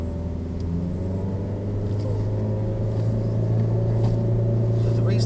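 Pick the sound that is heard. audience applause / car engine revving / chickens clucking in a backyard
car engine revving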